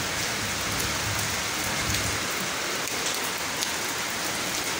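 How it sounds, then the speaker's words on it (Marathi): Heavy rain pouring down outdoors, a dense steady hiss of drops on surfaces that stays loud and unbroken throughout, with no voices. "आणि आज बघा कसा पाऊस येतो।"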